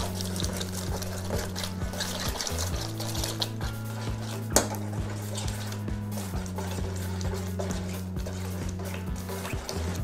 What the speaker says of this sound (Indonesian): langsung kita tuang telur. Telurnya masih mentah nih.